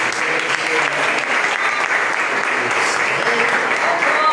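A church congregation applauding during a Sunday service, a loud, dense, continuous clapping from many hands that holds steady for several seconds with some voices mixed in.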